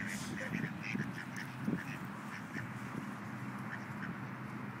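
Ducks being fed outdoors quack repeatedly in short, overlapping bursts, near and moderately loud over steady ambient background noise.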